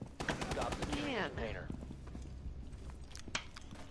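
Rainbow Six Siege gunfire, a few faint quick shots and clicks heard well back in the mix while a voice talks over them.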